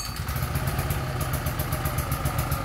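A small petrol generator engine starts after a recoil pull and runs with a rapid, steady low chugging and mechanical clatter, close by and fairly loud, with no voices.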